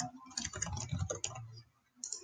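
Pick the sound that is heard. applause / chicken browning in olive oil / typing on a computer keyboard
typing on a computer keyboard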